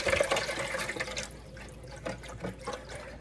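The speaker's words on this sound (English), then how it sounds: "I'm going to stir the saline solution." Water swirls and sloshes as a saline solution is stirred, a steady close liquid churning that fades slightly, with faint rhythmic splashes and no talking.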